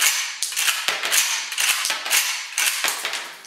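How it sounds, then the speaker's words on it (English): Saiga 12-round shotgun magazine ejected onto a table, giving a rapid series of sharp metallic clacks and rattles at close range with short gaps between them, no voices. "I'm going to eject it down towards the table just so it doesn't go everywhere."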